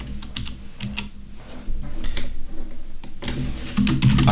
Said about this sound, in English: And then you can simply hit enter, keep typing